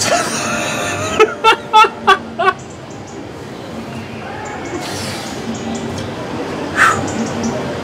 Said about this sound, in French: Les oiseaux qu'on trouve sur cet eucalyptus